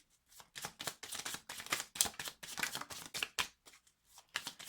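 A deck of oracle cards is shuffled for a reading, a run of quick papery riffles and slaps coming in close bursts with short pauses between them, up close and without talk.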